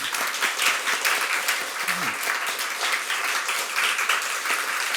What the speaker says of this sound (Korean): 다시 한번 우리 목사님 축하하며 박수 한번 다시 한번